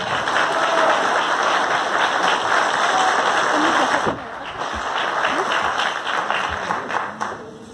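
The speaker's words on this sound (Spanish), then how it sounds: "Les pido un fuerte aplauso para ellos, el señor secretario, el señor gobernador." Audience applause at a public event for World Cancer Day, steady dense clapping from a crowd that carries on for several seconds, dips briefly, then continues at a slightly lower level.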